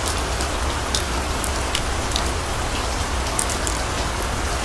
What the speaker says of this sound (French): Des vidéos de pluie et de tonnerre